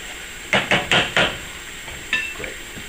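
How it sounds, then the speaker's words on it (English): Simmering sauce stirred in a pot, with four quick knocks of a utensil against the pot in a row, then a couple of softer taps over a faint background hiss. "We'll stir all this. And we're going to let it simmer for a little bit"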